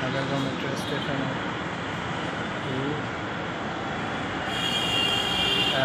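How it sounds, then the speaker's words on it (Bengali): A metro train runs at Agargaon metro station in Dhaka with a steady rolling rumble and faint wheel squeal, growing louder toward the end, while someone speaks over it. "আমি আছি এখন আগারগাঁও মেট্রো স্টেশনে।"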